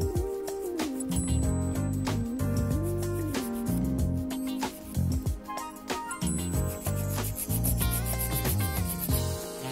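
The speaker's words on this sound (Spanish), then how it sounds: "limamos laterales" A nail file rasps along the sides of sculpted acrylic nails in close, repeated scratchy strokes, with faint clinks among the steady rubbing.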